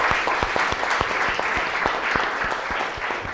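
An audience at a chef cooking competition claps together in dense, continuous applause that holds steady throughout, with no voices over it.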